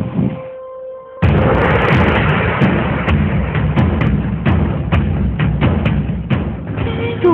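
Gunfire rings out in a dramatic scene: after a brief quiet start, a loud, sustained burst of booming shots and sharp cracks follows in an uneven, rapid rhythm.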